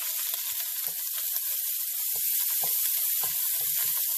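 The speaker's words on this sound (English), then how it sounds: "Saute this." Snail and pork spareribs sautéing with lemongrass and chili peppers give a bright, continuous sizzle, with scattered low clicks and pops from stirring or shifting food.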